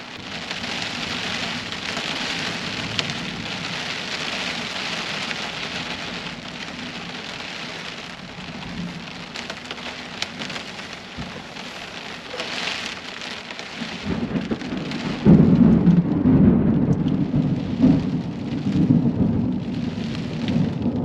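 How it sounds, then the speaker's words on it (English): Overnight thunderstorm rain drums on a truck camper, a steady close patter with rolling thunder that swells louder in the latter part, no talking. "Well, the rain's come in."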